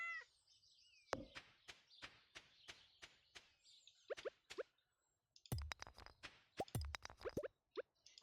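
A cat in Stardew Valley meows amid a series of short, soft popping clicks, with several quick chirpy meow-like cries, quiet and close, and a brief silence in the middle.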